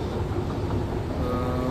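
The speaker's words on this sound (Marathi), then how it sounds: "उबान स्टेशनवर आहे ना. एक ट्रेन घेऊन जायचा प्लॅन आहे." A Vienna U-Bahn train at a station gives a low rumbling roar with rail rattle and a faint tonal whine, moderately loud and continuous, with no voices.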